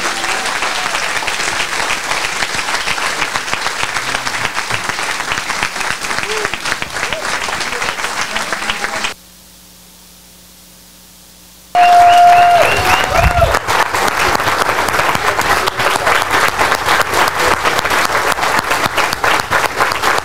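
Loud, sustained applause from a large crowd at a book launch party, broken by a brief pause of near silence before the clapping resumes just as strongly.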